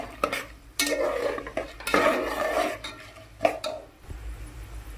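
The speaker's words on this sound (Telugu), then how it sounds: "బాగా వేగించండి." A spoon stirs and scrapes through peanuts, chana dal and urad dal frying in a pan for pulihora tempering, with rough scraping strokes and clatter over a soft sizzle, close and moderately loud.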